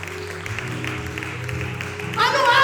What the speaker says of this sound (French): On nous applaudit le roi des rois maintenant.